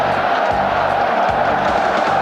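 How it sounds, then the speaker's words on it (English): Dense rugby stadium crowd roaring continuously in a South Africa versus Wales match, a loud, unbroken wash of cheering and baying with no pauses. "the crowd are now baying for the 100 points"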